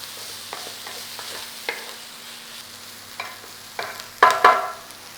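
Garlic and onions fry in a pan with a soft, steady hiss, broken by occasional scraping stir strokes that grow louder and clatter near the end.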